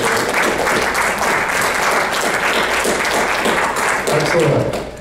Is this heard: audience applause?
yes